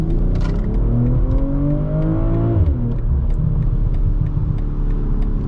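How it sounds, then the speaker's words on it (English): A 2024 BMW M340i xDrive's inline six revs loudly and steadily with a rising then falling engine note, followed by subtle exhaust burbles from the rear, heard from inside the cabin. "you do hear some subtle burbles out the rear"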